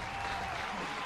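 Brief, faint applause from a StarCraft 2 game scene, a soft patter of clapping lasting about a second.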